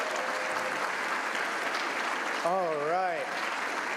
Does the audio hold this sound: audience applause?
yes